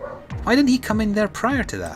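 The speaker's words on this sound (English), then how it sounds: "apologies for the dog barking" A dog barks in yips and bow-wows, several short bursts close by, mixed in under someone talking steadily over a video game session.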